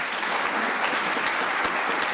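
An audience at a medical college investiture ceremony claps steadily for an honoree in the Department of Radiology and Radiation Oncology, a dense, even round of applause filling the room with no voices over it.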